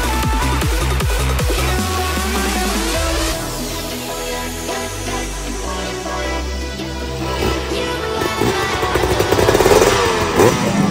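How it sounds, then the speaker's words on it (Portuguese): Several dirt bike engines idle and rev together at the start line of a trail ride, loud and close, with throttle blips rising and falling and a buzzy, clattering mechanical tone throughout. "Motores ligados, câmera gravando, puxador alinhando, vai começar sexto trilhão de Teofilândia"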